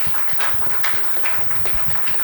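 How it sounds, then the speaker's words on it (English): An audience claps together at the close of an academic panel session on AI in education. The clapping is dense and continuous, at moderate volume, and lasts the whole two seconds. "So give applause to Elsa."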